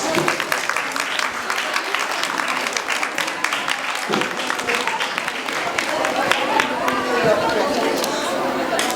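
A crowd at a school Science Day prize ceremony claps for a prize winner, with dense, continuous applause mixed with chatter and voices all the way through.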